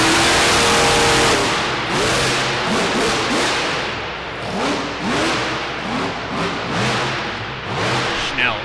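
Bigfoot monster truck engine at a monster truck nationals freestyle event in DuQuoin, Illinois, roaring loud and steady with repeated rising revs amid crowd and arena noise.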